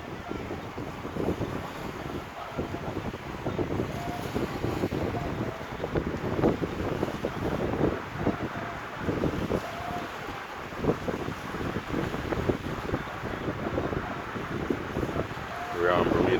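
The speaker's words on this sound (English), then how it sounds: "it's a little bit too windy out there for him." Strong gusty wind buffets the microphone at Spanish Point Park on a Bermuda beach, a continuous loud rumble with surf and water in the background.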